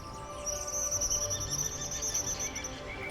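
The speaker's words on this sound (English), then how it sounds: "Yeah, the bird singing." A bird sings in bright, high, warbling phrases against a soft, constant background, moderately close and clear, with no voices over it.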